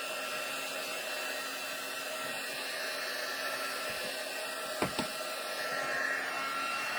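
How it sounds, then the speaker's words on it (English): Heat tool for card making blowing steadily throughout, a constant whirring rush of air at moderate level with a couple of small clicks near the end, no talking. "so I've got my heat tool ready to go here"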